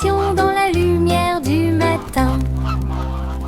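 Cartoon geese honk in rhythm within an upbeat children's song, their nasal calls riding over steady music in repeated bursts, loud and up front.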